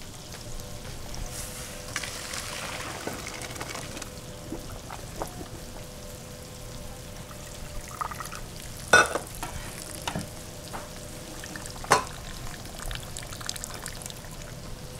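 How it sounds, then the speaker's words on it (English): Cooked al dente rice is poured and strained in a kitchen, giving a soft continuous pouring and rustling wash with occasional sharper clinks and knocks across fifteen seconds, fairly quiet and without speech. "So we're gonna strain this rice."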